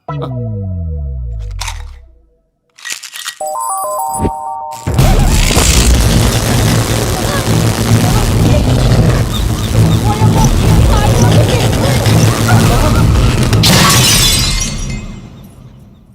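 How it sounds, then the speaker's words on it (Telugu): Electric lights bursting and shattering indoors, a sudden loud crack followed by a sustained, dense crash of breaking glass and debris lasting over ten seconds before fading, with brief voices and tones at the start. "నిజానికి జాతకం వల్ల లైట్లు పేలకూడదు"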